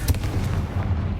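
Confringo blasting spell detonating in the Hogwarts Legacy video game, a short booming blast with a heavy low-end rumble lasting about a second.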